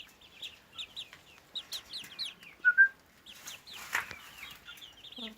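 Several young Faverolles cross chickens cluck and peep in a steady, uneven patter, close by, with a few louder squawks partway through and no talk.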